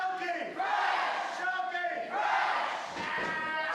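A wrestling crowd at a Toronto street fight in El Mocambo roars and screams wildly, a dense wall of voices swelling in two big surges, loud and close.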